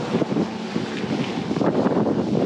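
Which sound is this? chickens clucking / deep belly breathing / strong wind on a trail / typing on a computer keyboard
strong wind on a trail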